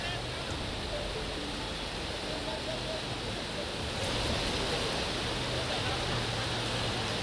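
Fast-flowing floodwater after heavy rain in Pithoragarh, Uttarakhand, rushes in a loud, steady broadband roar that swells slightly partway through, while a voice speaks faintly under it.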